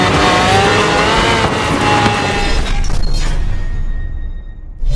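An off-road car revs and roars loudly in the Mudstorm multiplayer Android game, with tyre noise and a heavy boom, before the engine fades out near the end.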